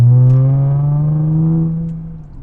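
A Jaguar F-Pace S with a muffler-delete exhaust cruises along with a deep, steady engine drone that rises gently in pitch, then eases off and fades slightly toward the end.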